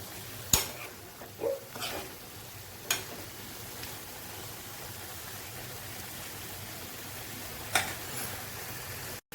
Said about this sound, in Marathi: मीठ घातल्यावरती पुन्हा एकदा असं चांगलं मिक्स करून घ्यायचं.